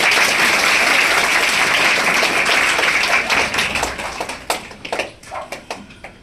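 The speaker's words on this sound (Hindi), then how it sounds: "एक बार जोरदार तालियां भाई साहब को।" Loud applause from an audience at a school ceremony honouring students, thick continuous clapping that thins into separate claps and dies away near the end.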